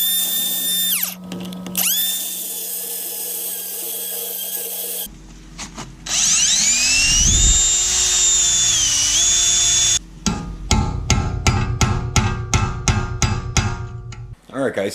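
A power tool cuts into the axle nut of a BMW axle in a home garage, running in long whining bursts, then a rapid stuttering chatter of the cutting near the end. Loud and close, with no talking.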